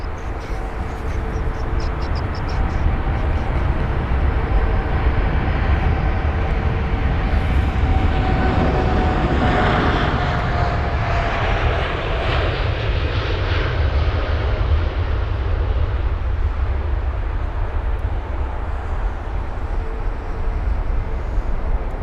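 A United Boeing 787 jet departs London Heathrow, its engines giving a loud, sustained broadband roar that swells near the middle of the clip and slowly recedes, with no talking.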